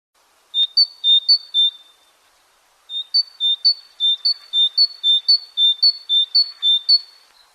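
Spring birds chirp nearby in clear, high two-note calls: a short burst of four or five, a pause, then a longer steady run of repeated chirps against near silence.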